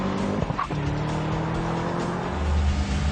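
Chevrolet Camaro muscle car launching hard on a quarter-mile run, a loud steady engine roar with tire squeal throughout, close and continuous with no talk.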